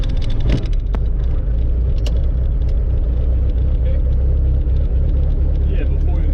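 A Robinson R22 helicopter's engine starting up and then running as a loud, steady low rumble throughout, with voices talking over it.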